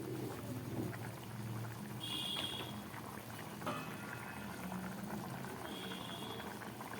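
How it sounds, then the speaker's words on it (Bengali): Ghugni, a spiced pea curry, bubbling at a full boil in a pot, with quiet steady blipping and gurgling and a few faint clinks, close but low in level. "ঘুগনিটা পুরোপুরি ফুটে উঠেছে"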